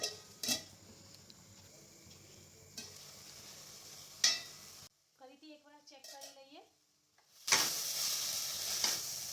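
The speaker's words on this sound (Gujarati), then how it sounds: "આ રીતે થોડી વાર ફેરવીશું હજુ થોડી વાર ફરી આને થવા દઈશું" Amaranth greens sabzi is stirred in a hot pan, with soft sizzling and intermittent scraping strokes, a brief quiet pause, and a voice talking partway through.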